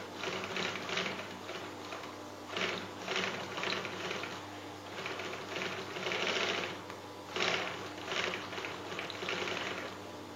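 A sewing machine stitches fabric during a beginner's first sewing lesson, its needle chattering in steady bursts that swell and ease over about ten seconds, close and moderately loud with no talking.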